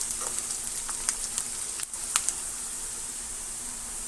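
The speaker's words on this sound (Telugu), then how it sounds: "సన్నగా తరిగేసుకోండి గోల్డ్ కలర్లోకి వచ్చేంత వరకు వేయించుకోవాలి తిప్పుతూ ఉండండి" Finely chopped green chillies fry in oil in a pan for a chicken curry, a steady close sizzle with a few faint clicks of stirring and no voices.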